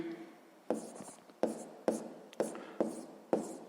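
Pen strokes write 34% on paper, six or seven short scratching strokes in a quick, uneven rhythm, close and fairly quiet against a silent background.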